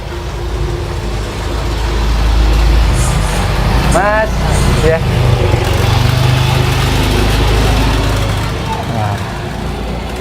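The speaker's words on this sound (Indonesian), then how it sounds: "Ada motor." A motorbike engine idles and revs close by on the street, a steady rumbling drone with a brief rising whine around the middle, while people talk nearby.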